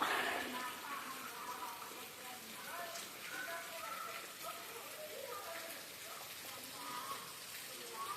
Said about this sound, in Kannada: ತೋರಿಸ್ತೀನಿ ಬರ್ರಿ ಮಳೆ ಬರಾಗತ್ತೈತಿ